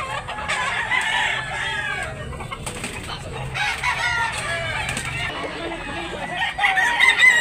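A Gilmore bloodline gamefowl rooster crows repeatedly among other fowl clucking and crowing at a Cebu cockfighting farm, with faint voices in the background.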